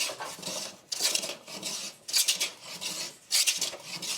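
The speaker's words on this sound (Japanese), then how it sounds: "カンナできれいに仕上げておきます。" A hand plane shaves a softwood board smooth, giving about four rhythmic rasping strokes with short pauses between, close and steady with no talking.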